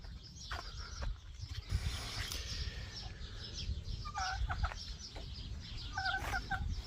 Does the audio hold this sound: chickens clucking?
yes